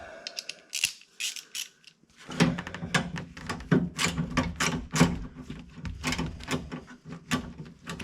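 Ratchet wrench undoing a bolt on the rear of a Dodge Aspen handle, with several bursts of quick, close clicking and small metallic clatters, alone without talk.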